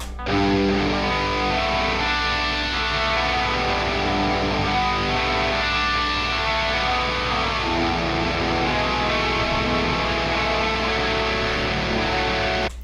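Two doubled distorted electric guitar parts play together in a stereo recording, making a thick, sustained, loud wall of chords with steady strumming and no voices.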